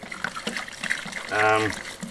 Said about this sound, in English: just add your water really slowly